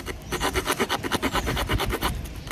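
A saw cutting a V notch into wood for a bow drill fire set, heard as rapid, steady rasping strokes close up, running evenly for a couple of seconds without pause or voices.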